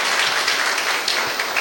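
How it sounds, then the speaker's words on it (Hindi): Brief burst of audience applause at a lecture on stress management, a dense patter of many hands clapping at moderate loudness. "तालियां बजाइए इनके लिए"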